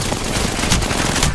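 Loud, continuous rapid gunfire from an Apex Legends firefight, a dense unbroken burst of shots filling the whole moment.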